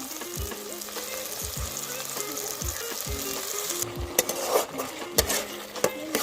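Fried spice paste with whisked sour yogurt stirred in a pan for a yogurt rohu fish curry, with steady sizzling and frying under repeated scraping strokes of a spatula against the pan, close and continuous.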